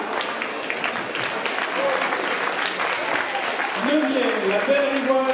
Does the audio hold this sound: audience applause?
yes